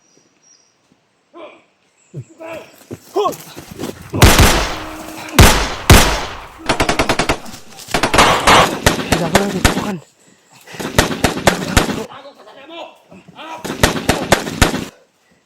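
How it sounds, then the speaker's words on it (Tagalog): Rapid bursts of gunfire crackle in several loud clusters, some sharp single shots and some fast rattling volleys, with someone talking in between and under the shots. "Paputok sila. Paputok."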